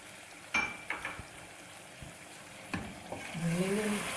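Chicken karahi frying with tomato puree and yogurt in a pan, a steady sizzle broken by a few clinks and scrapes of a spoon stirring against the metal.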